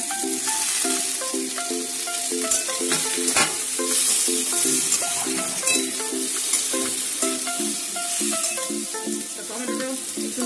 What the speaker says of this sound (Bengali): এবার দিয়ে দিচ্ছি পেঁয়াজ কুচি আর লঙ্কা কুচিটা দিয়ে আলুর সাথে ভাজা হবে।